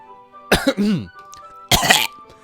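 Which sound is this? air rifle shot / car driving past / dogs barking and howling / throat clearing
throat clearing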